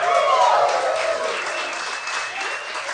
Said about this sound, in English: you're applauding your own good fortune